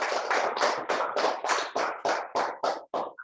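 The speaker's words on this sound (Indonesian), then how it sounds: "Tepuk tangan dong untuk kelompok 2." Students in a classroom give group 2 a round of applause: a short run of about eleven rhythmic, unison claps, moderately loud and close, with no voices over them.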